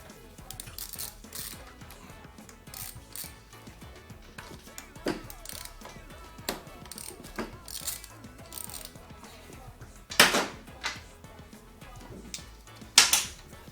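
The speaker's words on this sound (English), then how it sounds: "What I normally do is loosen the caliper pin first" Metallic ratcheting and clicking from a hand tool loosening the front brake caliper pad pins on a 2007-2017 Honda CBR600RR, intermittent and close, with a couple of sharper clanks near the end.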